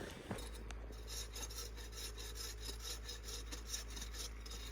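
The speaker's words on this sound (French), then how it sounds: "c'est moi, je scie le bois et tout." Rhythmic back-and-forth sawing strokes rasp through wood in a video game, quiet and steady over a low background hum.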